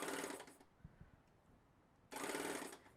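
A serger air-threading its lower looper at a button push: a loud whooshing burst of air, a quiet pause with a couple of small clicks, then a second equally strong blast of air.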